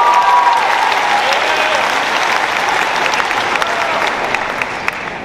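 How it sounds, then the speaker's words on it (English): A large audience in a university coliseum at a student singing event claps loudly and steadily, the dense applause gradually thinning and fading toward the end. "Please give them a round of applause"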